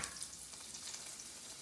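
Sliced Jerusalem artichokes hit hot oil and fry with a steady, bright hiss and crackle, close up and unbroken throughout.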